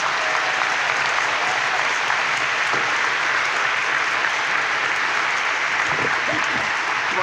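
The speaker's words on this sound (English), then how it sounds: "Let's give a big round of applause to the mayor." A town hall crowd in Hillsboro, Oregon gives the mayor a big round of applause, a loud, dense, unbroken roar of clapping held steadily throughout.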